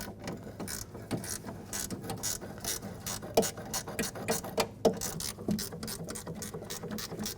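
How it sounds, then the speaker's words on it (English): A ratchet tightening the lower bolts on the front window regulator of a 2006-2010 BMW 550i, with close, rapid clicking in short bursts and light metallic knocks. "Tighten the lower bolts down."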